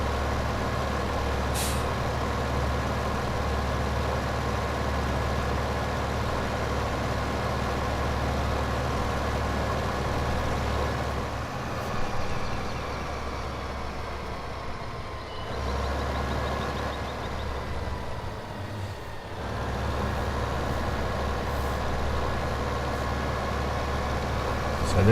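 Tractor engine in Farming Simulator 2015 on the Melbury Estate, a steady low mechanical drone that holds throughout with brief dips and shifts, running alone without voices.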